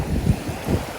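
Strong ocean waves roll in with a low, rumbling wash under heavy wind buffeting the microphone, loud and close for a brief moment.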